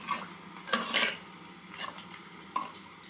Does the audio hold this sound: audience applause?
no